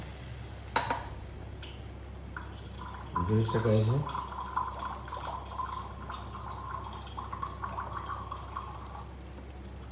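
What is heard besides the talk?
water poured into a pot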